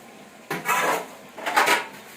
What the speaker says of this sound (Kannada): ಪಾತ್ರೆ ತೊಳಿತಾವಳು ನನ್ನ ತಂಗಿ